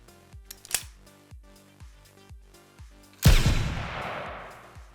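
A 3D-printed single-shot dueling pistol chambered in .45 Long Colt fires once, a loud sharp blast with a long decaying tail, following steady low rhythmic background music with a brief click before.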